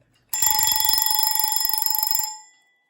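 A Westclox Baby Ben style mechanical alarm clock set to loud: a rapid metallic bell rings for about two seconds, then cuts off and rings out briefly in a short tail.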